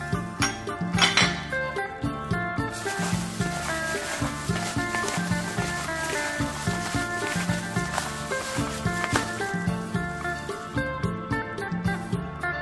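Salad with red onion tossed in a bowl, a steady run of clinking and clattering as utensils scrape and knock against the bowl, close and continuous.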